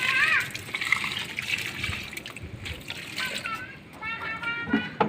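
Homemade liquid fertilizer made from kitchen waste trickles and splashes as it is poured onto garden plants, a soft, close stream heard under a person talking.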